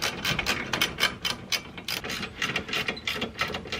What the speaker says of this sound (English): Just gonna get these two 14mm bolts back in.